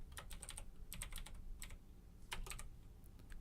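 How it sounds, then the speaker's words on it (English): Fast, irregular clicking of keys on a computer keyboard, close and quiet, in bursts of several strokes with short pauses, no voices. "I'm going to type in Bobcat review."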